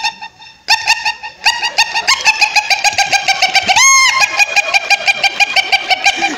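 A comedian's voice imitates a rooster calling a hen, loud and close, with a rapid string of clucking, chuckling notes and a brief rising squawk in the middle, repeated rhythmically throughout.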